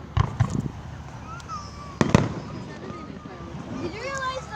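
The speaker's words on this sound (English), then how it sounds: "Oh my God, that's a big firework." Independence Day fireworks go off in sharp booms, two big pairs of bangs followed by fainter crackling and whistling, while people nearby chat and react.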